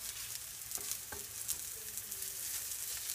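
Butternut squash fritters sizzle steadily in an oiled pan, a dense, even hiss of frying that stays constant throughout with a few faint clicks.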